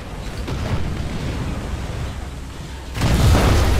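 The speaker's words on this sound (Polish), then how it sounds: "Lekko bok tylko odsłoniłem i wybuchłem." A tank explodes in the video game Ground Forces, with a rumbling, noisy roar that swells suddenly into a louder, broadband blast near the end.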